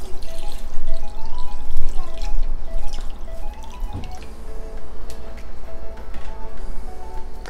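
Two cups of water pour into a cooking pot in a steady, loud splashing stream with bubbly dripping textures throughout, close to the listener.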